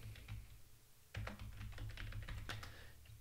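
A password is typed on a computer keyboard in a quick burst of soft, close key taps over a low background hum.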